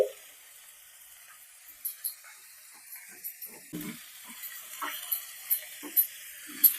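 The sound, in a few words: grated carrot added to frying cabbage and onion in pan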